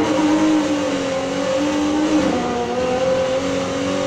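A 1977 Pontiac Firebird drifting in Need for Speed Heat, its engine holding a loud, steady drone with slowly shifting pitch and a soft tire hiss underneath, close and continuous with no talk.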